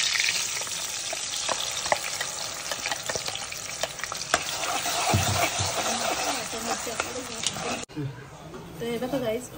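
Masala paste with curry leaves fries in a hot pan, a steady crackling sizzle broken by stirring scrapes and clinks, heard under someone speaking.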